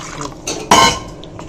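A mixer jar rinsed with a little water and the liquid poured out into a pot of brinjal kootu, a brief clatter of the jar followed by a short splashing pour, close by.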